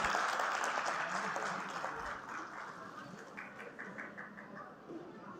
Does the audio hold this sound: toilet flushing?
no